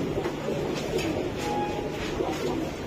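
Pigeons in a racing pigeon loft coo softly and repeatedly, with several low, throaty calls overlapping against a steady background hum.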